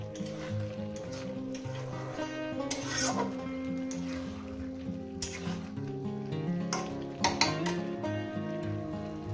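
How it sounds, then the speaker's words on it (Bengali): Poppy seed vegetable curry with bottle gourd greens sizzles steadily in a pot, with a lid lifted and a utensil stirring, bringing occasional clinks of metal against the pan over a continuous frying hiss and a faint background hum. "মাঝে মাঝে ঢাকনা তুলে এইভাবে একটু নেড়ে দিতে দেখেন"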